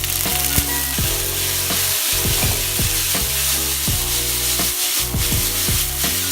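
Noodles frying in hot oil with sugar for a vegan Chinese noodle dish, a loud continuous sizzle with scraping and stirring clatters from the pan, no talking.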